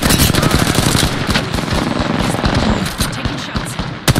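Rapid automatic gunfire in the video game Apex Legends, loud dense bursts of shots rattling almost continuously with brief gaps and sharp reports near the end.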